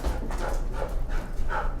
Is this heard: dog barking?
yes